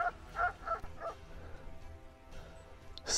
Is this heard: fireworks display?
no